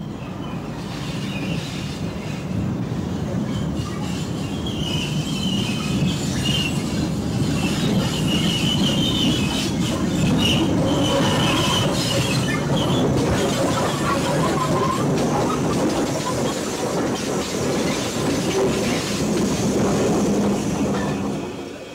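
LNER Class A4 4468 Mallard steam locomotive setting off northwards with a tour train, a steady, loud rumble of moving rail cars and wheels that continues throughout, with faint higher squeals above it.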